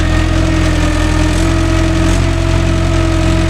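A Mahindra 575 DI tractor engine idles in a loud, steady, continuous drone, the low engine throb heard close up alongside the whir of the fan and the exhaust note from the silencer.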